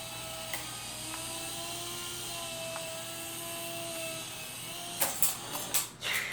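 Small Syma S107H and Sky Rover Vigilant remote-control helicopters fly indoors, giving a steady high whining rotor drone with occasional clicks, then a few sharp knocks and bumps near the end.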